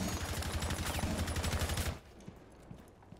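Gunfire from a gun in a video game, a rapid continuous burst of shots lasting about two seconds before cutting off, followed by a few faint isolated clicks.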